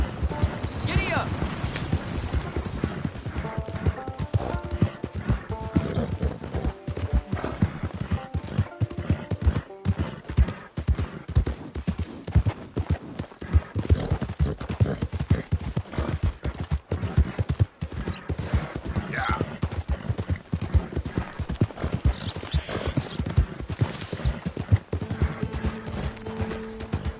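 Horse hooves clopping in a quick irregular gallop in the Red Dead Redemption 2 video game, close and steady, with game music and occasional voices over it.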